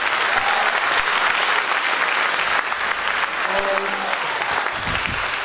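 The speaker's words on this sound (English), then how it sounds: "How about a round of applause for him" Sustained applause from an audience at a high school spring choral concert, a dense steady clapping roar that fills the whole stretch, with a few faint voices under it near the end.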